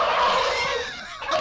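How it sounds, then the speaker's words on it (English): Turkeys gobble loudly in an enclosed room, a dense, rapid rattling burst of gobbles up close that tapers off briefly before another call rises at the end. "Why, those are turkeys. This room is filled with turkeys."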